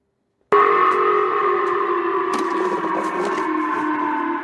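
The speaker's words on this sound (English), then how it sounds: "That sound there, air raid sirens sounded." A steady, wailing air raid siren in Japan, sounding as a warning after a North Korean ballistic missile launch, starts abruptly and holds loud and continuous, echoing with reverberation across a wide area.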